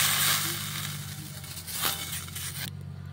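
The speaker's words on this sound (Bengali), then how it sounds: "আর ওপর থেকে একটু জল ছিটিয়ে দেব।" Water splashed into a hot covered frying pan gives a steady close sizzle and crackle, rising briefly in a burst near the middle, then cutting off sharply.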